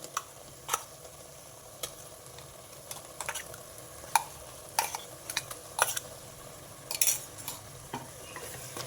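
Masala for a fish curry fries softly in a pan, a low steady sizzle broken by scattered clicks and scrapes of a spoon stirring it, fairly quiet and close with no voices.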